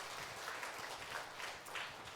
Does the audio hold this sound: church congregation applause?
yes